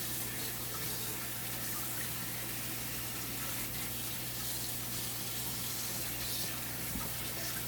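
Water runs in a kitchen sink, filling a bowl with lemon and vinegar water for washing chicken, a steady quiet hiss and splash under a low mechanical hum.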